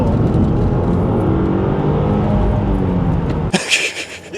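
A 2018 Subaru WRX with about 95,000 miles, accelerating hard in a full-throttle pull, its engine note loud and steady from inside the car, then breaking off into wind and road noise.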